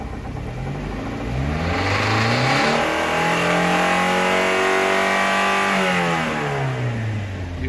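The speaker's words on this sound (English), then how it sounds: "let me rev it up a little bit" A John Deere minitruck engine is revved up from idle, climbing steadily to a high sustained pitch, holding there, then dropping back down. The sound is close and loud, with no talking.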